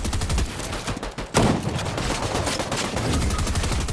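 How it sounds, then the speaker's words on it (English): Rapid gunfire from Fortnite, meant as sniper shots, rattles in a dense, loud, continuous stream of cracks with a brief gap midway, close and dominant throughout. "Hey, they sniping at me."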